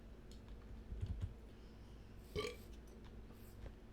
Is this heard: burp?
yes